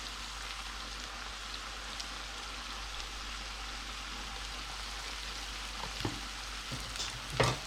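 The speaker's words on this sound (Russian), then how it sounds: "Лук готовим на слабом огне 10-15 минут." Onion fries over low heat in a pan of vegetable oil, a steady soft hiss and crackle throughout, close and quiet, with a few small clinks near the end.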